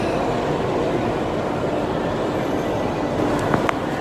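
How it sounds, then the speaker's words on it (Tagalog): A Laos China Railways speed train at a station near Luang Prabang, heard as a loud, steady rumbling roar that holds throughout, with a couple of faint brief squeaks near the end. "that is the train."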